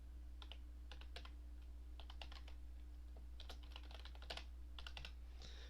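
Typing on a computer keyboard, quick irregular clusters of light key clicks over a steady low electrical hum, close and quiet with no voices.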